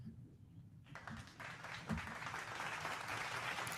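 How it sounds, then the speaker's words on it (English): Applause swells in after a quiet start, a crowd clapping steadily and growing fuller, somewhat distant. "Go ahead and clap it up for Mr. MVP. Drake May."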